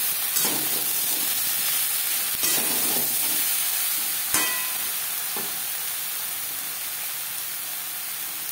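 Ridge gourd and potato with turmeric and salt being stirred in a hot pan, with a steady sizzle and hiss and a few sharp scrapes of the utensil against the pan, with no talking.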